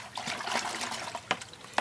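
A wire bristle brush is dipped into a bucket about a quarter full of water, giving a soft close trickle and swish with a few small splashes, and no one talks over it.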